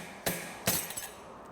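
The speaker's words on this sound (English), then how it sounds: "this is the cleanest way to remove it, is with a slide hammer" Slide hammer striking to pull a stock exhaust pipe off a Vespa Sprint or Primavera: two sharp metallic impacts close by, the second followed by a couple of small ringing clinks.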